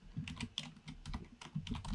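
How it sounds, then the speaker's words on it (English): Rapid, uneven clatter of keys on a computer keyboard, typed into a website builder's text field, close and clear with bursts and short pauses, no voices. "you can fill in this text just by typing"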